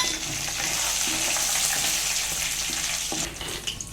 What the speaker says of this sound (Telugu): ఇవన్నీ వేసుకొని మళ్ళీ ఫ్రై చేసుకోండి